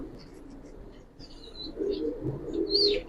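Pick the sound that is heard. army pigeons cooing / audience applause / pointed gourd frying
army pigeons cooing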